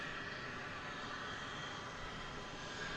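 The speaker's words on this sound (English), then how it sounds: "Airways Express aircraft that just touched down" Cessna 208 Caravan turboprop rolling out just after touchdown at a busy airport, a steady, distant engine roar with a faint high whine, continuous and fairly quiet throughout.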